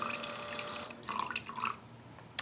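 Fragrance oil poured slowly from a bottle into melted candle wax in a candle maker, a quiet trickling splash close up that stops partway through.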